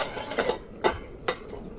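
A metal lid set down over a cooking pan of potatoes and eggs, giving a few short clanks, with three sharp knocks spaced across a couple of seconds.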